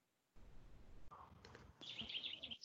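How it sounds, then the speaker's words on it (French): Small birds chirp faintly in the background of an online call, high thin calls coming in brief bursts over low room noise. "on entend les oiseaux"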